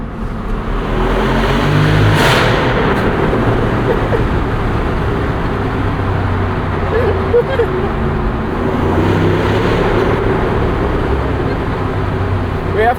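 A 2024 Jeep Wrangler 392 Rubicon Final Edition with its Hemi V8 and performance exhaust rumbles loudly from inside the cabin, with a surge of revving early on over steady road and traffic noise; occasional voices are faintly present.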